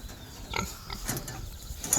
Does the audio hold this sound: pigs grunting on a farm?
yes